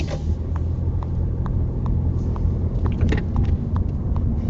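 A car pulls away during a driving-test move-off maneuver, its engine giving a steady low rumble at close range with faint clicks and road noise over the top, and no voices.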